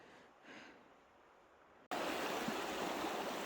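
A creek at Canyon Falls in Michigan's Upper Peninsula flows in winter, a quiet rushing murmur that suddenly jumps to a loud, close, steady roar of moving water, with no talk.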